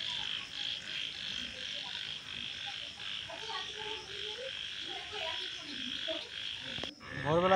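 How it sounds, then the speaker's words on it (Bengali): Frogs croak steadily around a flooded pond in the rain, a dense chorus of rhythmic calls with insect buzz, mid-distance, ending with a sudden nearby noise. "ব্যাঙের ডাক তোমরা শুনতেই পাচ্ছ"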